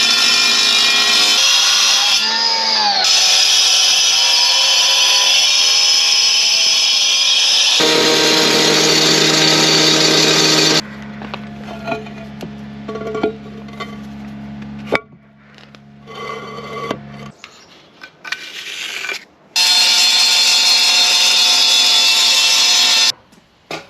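A power saw loudly cuts hardscape caps in several long, harsh bursts, stopping and restarting, with quieter handling and scraping sounds between the cuts.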